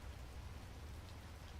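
Steady, soft rain patters evenly throughout a quiet scene in the visual novel game Sugar Style, with no voices or other sounds.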